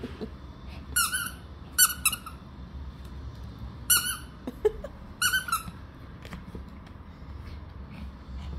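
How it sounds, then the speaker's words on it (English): A peacock calls outdoors on a holiday in Spain, giving several loud, shrill squawks in short clusters spaced a few seconds apart over a steady low background hum. "A peacock, isn't it?"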